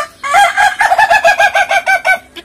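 Guinea fowl calling up close, a rapid run of about a dozen harsh, rhythmic clucking cries in quick succession, loud and alone.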